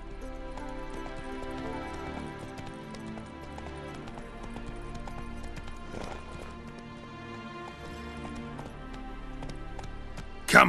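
Roach, the horse in The Witcher 3, trotting with steady rhythmic clip-clopping hooves over a soft background, close and even throughout, ending in a brief louder burst.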